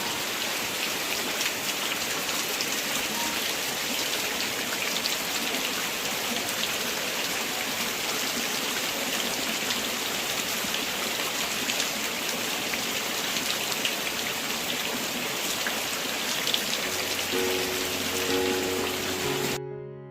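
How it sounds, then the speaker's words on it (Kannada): Heavy monsoon rain pours down steadily in a village, a dense, loud, continuous hiss of drops on surfaces with no break, lasting the full length before cutting off abruptly. "ಇಲ್ಲಿ ಸೌಂಡ್ ಕೇಳ್ಕೊಳ್ಳಿ, ಹಾಗೆ ಯಾವ ರೀತಿ ಇದೆ ಮಳೆದು ಅಬ್ಬರ ಅಂತ"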